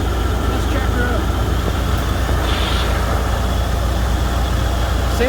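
A car engine idles steadily with the hood open on a dirty daily driver, a constant low rumble with belts, pulleys and fans turning, close and even throughout.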